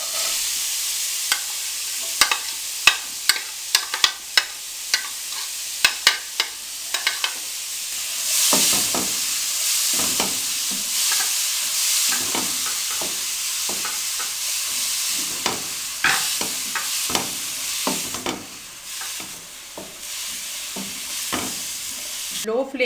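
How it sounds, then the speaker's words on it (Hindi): Chopped carrots fry in cooking oil with a continuous loud sizzle, broken by repeated sharp clicks and scrapes of a spatula stirring against the pan, close up and without talk. "अब इसी कुकिंग ऑयल में हम गाजरें काट के फ्राई कर लेंगे।"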